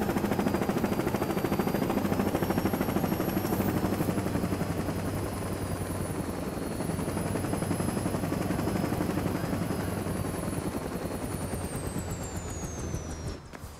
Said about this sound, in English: I'm in the helicopter.